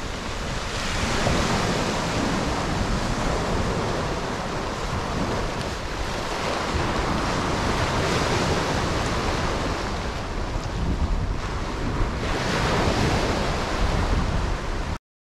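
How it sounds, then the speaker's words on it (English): Surf rolls in continuously on a rocky beach at Bannow on the Irish coast, a loud broadband roar with swelling and ebbing waves and wind buffeting the microphone. "waves coming in"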